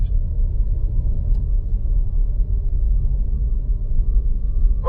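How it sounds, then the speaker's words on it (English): BMW cars idle in a pit lane, a steady low engine rumble held at an even level throughout, close and loud with no talk over it. "please leave the cars running at all times"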